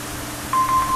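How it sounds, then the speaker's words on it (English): A phone gives off a single steady electronic beep that starts halfway through and holds to the end, clear above a low room hum. "Shut up, phone."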